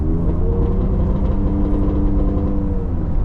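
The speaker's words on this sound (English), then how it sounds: "What's all that popping out the exhaust" A Ford F-150 EcoBoost truck engine idles and revs close by, with irregular crackles of exhaust popping breaking through the continuous rumble.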